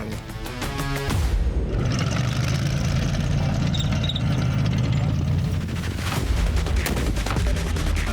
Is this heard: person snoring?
no